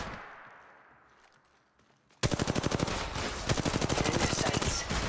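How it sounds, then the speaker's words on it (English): Automatic weapon fire in the Apex Legends video game, a quiet fading start followed by a sudden loud, rapid, evenly spaced burst of shots that carries to the end. "Getting shot at."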